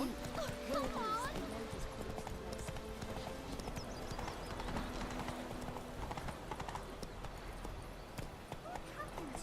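Roach the horse's hooves clop in a steady trotting rhythm in The Witcher 3, fairly close, while people talk over the footfalls and a short whinny breaks through.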